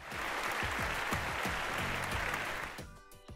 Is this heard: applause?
yes